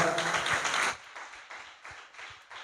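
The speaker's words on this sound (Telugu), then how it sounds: "చప్పట్లు కూడా దేవుని స్తుతిస్తారా?" A congregation at a Sunday church service claps in praise, a dense burst of applause for about a second that thins into scattered, softer claps.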